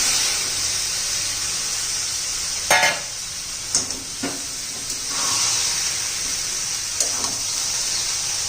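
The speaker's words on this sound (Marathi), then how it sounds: "आता आपला हा राजमा घालून घेऊया" Boiled rajma beans tipped into a hot pan with potatoes for a dry sabzi: a steady sizzling hiss with a few sharp scraping stirs and clinks of the spoon, close up and fairly loud, with no talking.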